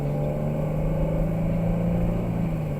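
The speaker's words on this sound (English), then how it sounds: "This car will be a little bit loud. It's a Hellcat Charger. You're gonna hear it spool up." Dodge Charger Hellcat engine under acceleration, a steady loud low rumble and drone heard from inside the car, holding even throughout with no talking.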